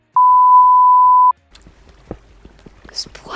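A single loud steady censor beep lasts about a second, followed by quiet shuffling and faint low talk.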